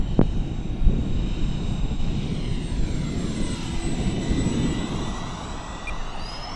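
An E-Flite A-10 Thunderbolt model jet with twin 64mm electric ducted fans flies slowly with full flaps into a headwind, a loud, steady whooshing fan whine with a high tone that drifts near and then away, plus some wind buffeting.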